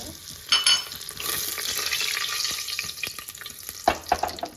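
Whole spices — cinnamon, cardamom and bay leaf — sizzle steadily in hot oil in a pan while coconut milk rice is being cooked, a close continuous crackle with a few brief stirring clatters and no talk.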